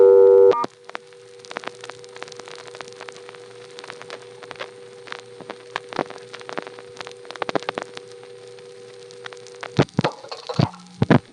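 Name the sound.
payphone busy signal after dialing star on crossbar exchange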